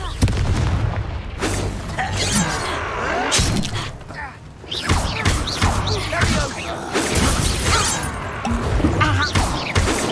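Repeated booming blasts of the Confringo fire spell in Hogwarts Legacy combat: a sequence of loud explosive bursts and crackling impacts over a stretch of battle sound, with a brief lull in the middle and voices mixed in.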